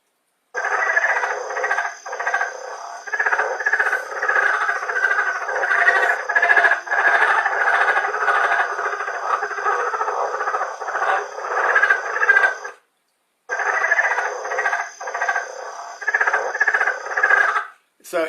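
A leopard frog's call plays from a recording, a long run of rapid chattering croaks in dense bursts with a short gap, sounding fairly close and steady.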